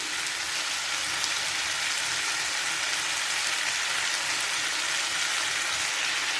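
Squid sautéing in a pan for a spicy gravy, a steady loud hiss and crackle of frying that continues evenly throughout with no talk.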